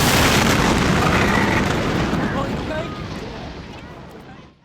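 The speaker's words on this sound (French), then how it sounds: "30 tonnes de nitrate d'ammonium détonnent, provoquant une énorme explosion." Detonation of about 30 tonnes of ammonium nitrate at a plant in Texas: a loud, broad roaring blast that rumbles on and slowly fades over several seconds, heard from a distance with wind buffeting the microphone.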